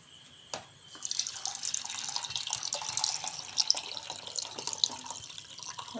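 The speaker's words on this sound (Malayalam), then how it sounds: "നമുക്കിതിലേക്ക് ചൂട് സുടാ വെള്ളം ഒഴിച്ചു കൊടുക്കാം" Hot water pours steadily into a cup of milk powder and sugar, a close running trickle and splash that starts after a brief clink and continues to the end.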